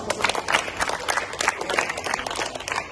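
A group of trainees claps after a technique practice session, fairly close, with uneven individual claps rising and falling in bursts across the whole stretch.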